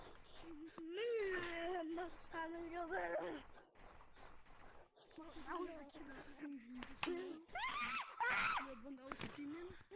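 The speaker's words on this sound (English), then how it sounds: "this kid won't stop screaming" A kid screams over voice chat in a game, with long, loud, pitched wails and shrieks that rise and fall through most of the stretch, mixed with other voices talking and some clicks.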